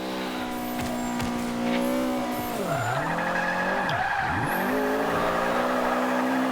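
Nissan 240SX drift car in Forza Motorsport 5, its engine revving loudly as it slides, with swooping dips in pitch, tire squeal, and a few sharp exhaust pops scattered through the run.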